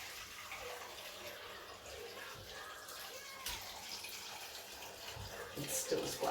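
Liquid bone broth pours and splashes continuously through a strainer in a kitchen, a soft, steady rush with occasional sharper splashes and bumps.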